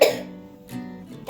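A young child with a cold gives a few short coughs close by, a sharp burst at the start followed by softer hacks and a final cough at the end.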